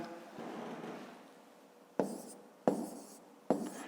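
Pen writing numbers by hand for a long division sum on paper, a soft stroke early on, then three short crisp scratching bursts close by, each about a second apart.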